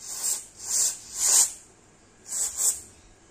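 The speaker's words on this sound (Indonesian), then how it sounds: "Jadi tinggal kita semprotin ya kalau ada kontak cleaner." Contact cleaner is sprayed onto a ceiling lamp fan in five short hissing bursts, close and fairly loud, with brief pauses between them and one longer gap before the last two.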